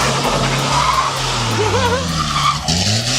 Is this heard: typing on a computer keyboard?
no